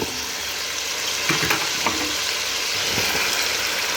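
Onion and vegetables fry in a pan with a steady, dense sizzle throughout, broken by a few soft stirring knocks.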